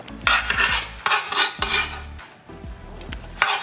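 Chopped sweet pickles scraped and tossed into a mixing bowl with a utensil for deviled eggs, giving several close clattering, scraping bursts against the bowl with brief pauses between.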